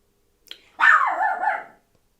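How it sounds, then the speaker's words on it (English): A single dog lets out one drawn-out bark that trails into a whine, preceded by a brief soft yip, in an otherwise quiet room. "my dog won't stop barking"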